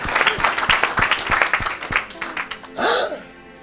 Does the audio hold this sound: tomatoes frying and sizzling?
no